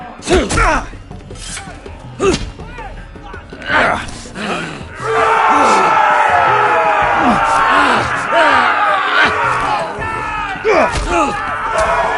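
A roaring arena crowd in the Game of Thrones Telltale video game cheers and bellows in loud swells, while voices shout over it and sharp thuds punctuate the din.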